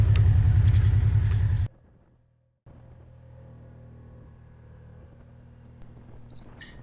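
An ATV climbs a graded dirt trail toward the high point of the Paiute ATV trail, its loud engine rumbling steadily, then dropping away briefly before a quieter, even motor drone resumes.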